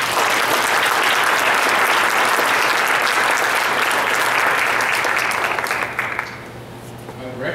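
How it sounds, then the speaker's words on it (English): Sustained audience applause at a December holiday celebration, a loud, dense wash of clapping from a large crowd that holds steady, then thins and fades toward the end. "So please give them a big round of applause."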